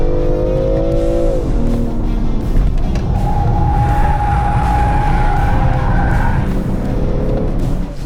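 Loud, close BMW engine roaring and revving with a rumbling exhaust, tires squealing over the continuous drone.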